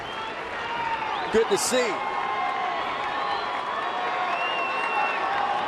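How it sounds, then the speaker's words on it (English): Excited baseball crowd at Petco Park during a Padres game against St. Louis, a broad distant roar held steady throughout, with a commentator talking briefly over it. "Crowd here at Petco a little excited."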